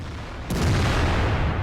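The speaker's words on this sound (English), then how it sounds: "there are some more blind shots made into the bushes in the forest" Tank cannon fire in the World of Tanks game during a clan war battle on the Murovanka map: one sudden heavy boom, followed by a sustained low rumble that lingers to the end.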